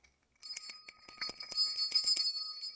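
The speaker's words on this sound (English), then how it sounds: "I'm gonna ring the bell" A small bell rung over and over: after a brief silence, a quick run of bright metallic strikes sets in, their shimmering ring building and overlapping for over two seconds.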